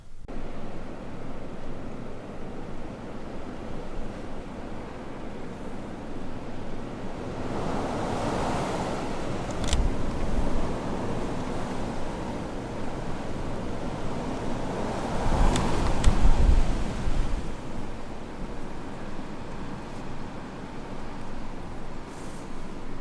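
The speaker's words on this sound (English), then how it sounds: "Windy outside." Strong wind blows outside in a stormy setting, a continuous loud rushing roar that swells in gusts around the middle and again later, with no voices.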